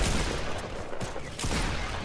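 SMG fire in a first-person video game, a dense rapid burst of close shots that briefly dips and then resumes just as loud.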